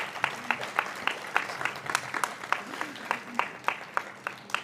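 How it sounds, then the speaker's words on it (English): Audience applause for an award recipient at a Bharatheeyatha 2025 ceremony, a steady patter of many hands clapping with sharper individual claps standing out, moderately distant and sustained throughout, with no speech over it. "Please join me in giving him a round of applause."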